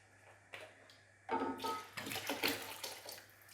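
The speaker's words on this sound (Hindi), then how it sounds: "इसमें हमने मज़ीद पानी ऐड कर देना है" Water poured into a cooking pot holding soaked lentils and rice for Lahori hareesa, a broadband splashing rush that starts after a soft knock and continues steadily to the end, fairly close.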